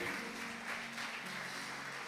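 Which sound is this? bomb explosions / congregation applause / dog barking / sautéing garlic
congregation applause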